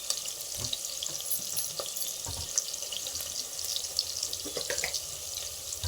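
Chopped onions sizzle steadily in a hot pan with a little salt for egg pulao, a continuous close frying hiss broken by occasional stirring scrapes.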